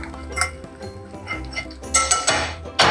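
Garlic and parsley being stirred in a pan, close utensil scrapes and light metallic clinks in an irregular rhythm, ending in a brighter rush of sizzle, with no talk.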